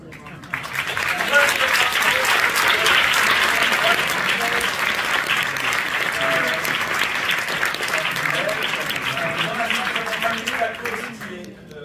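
Sustained applause from a large audience, steady and dense throughout, with scattered voices and cheers mixed in before it tapers off at the end.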